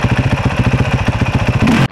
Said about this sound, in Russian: Рев моторов